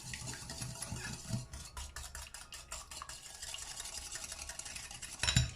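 Cake batter of egg and vanilla is beaten by hand with a utensil in a bowl, giving a steady run of close scraping, clicking strokes for several seconds without talk.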